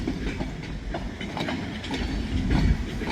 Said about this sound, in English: I knew there was a train coming. I could hear the engine.